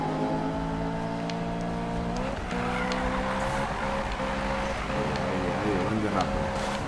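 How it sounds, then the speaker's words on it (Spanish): A car in Need for Speed drifts with tires skidding and squealing over a steady, droning engine, the slide loud and continuous while a voice talks over it. "buen derrape"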